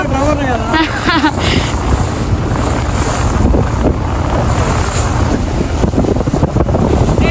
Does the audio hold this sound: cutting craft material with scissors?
no